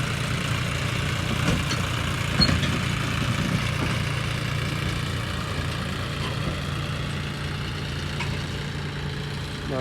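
A John Deere tractor with a reaper attached idles steadily and close by, its low engine drone holding an even rhythm with light mechanical clatter throughout and no talk.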